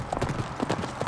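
Horse hooves clip-clop on a prayer horse ride through indigenous communities in northern Nevada, giving a steady run of close, fairly loud hoof beats in an uneven walking rhythm.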